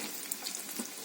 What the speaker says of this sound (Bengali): এবার আলু ভাজি করার জন্য তেল দিয়ে দিল